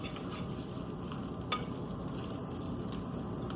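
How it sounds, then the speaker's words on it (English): A spatula scrapes hard along the bottom of a bowl while folding chocolate chunk muffin batter, giving a steady, close, wet swishing and scraping texture with one brief sharper scrape partway through. "So I'm going to scrape really hard from the bottom as I'm folding it around"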